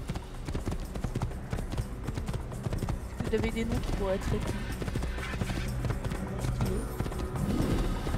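A horse gallops in the Assassin's Creed video game, steady rhythmic hoofbeats running throughout beneath someone talking in French over game music.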